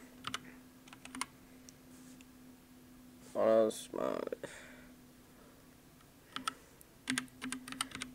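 Someone types a search query on a computer keyboard, with bursts of clicking keystrokes before and after a short spoken word, close and crisp against a faint background hum.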